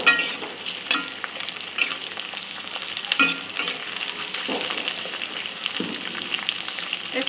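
Onion and capsicum fry in a pan for chicken jalfrezi with a loud, continuous sizzle, broken by several sharp stirring scrapes and knocks of the spatula, with no speech.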